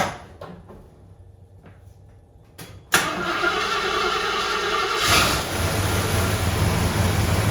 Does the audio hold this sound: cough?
no